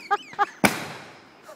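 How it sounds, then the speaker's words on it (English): A single firework bursts with a sharp boom and a crackling decay, preceded by two short excited vocal sounds. "That's a legit city firework right there."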